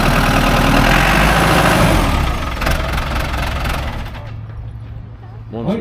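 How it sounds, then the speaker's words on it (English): New Holland TS 110 tractor engine idling at an equipment auction, a steady low rumble with loud broadband noise that fades somewhat toward the end, with voices in the background. "moving on down to your New Holland TS 110"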